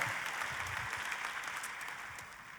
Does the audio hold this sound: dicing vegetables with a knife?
no